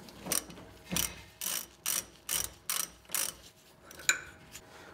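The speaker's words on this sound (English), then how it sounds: "Next, remove the sway bar and link nuts." A ratchet wrench loosens sway bar link nuts on a 1980-1996 Ford Bronco or F150 truck, giving about seven close, crisp bursts of rapid clicking in a steady rhythm, with a sharper click near the end.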